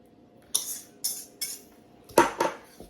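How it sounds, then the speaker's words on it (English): An egg substitute mixture stirred in a bowl, five sharp clinks of a utensil against the bowl, close and clear, the last two quicker and louder. "So I'm just stirring this up"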